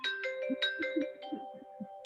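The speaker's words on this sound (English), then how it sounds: "I got a phone call." A phone ringtone for an incoming call chimes in a short melodic run of bright tones, fairly quiet and alone.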